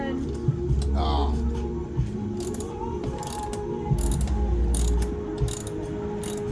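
Ratchet wrench clicking in rapid bursts while loosening a bolt on a French door refrigerator, close and fairly loud, with pauses between runs and a person speaking briefly.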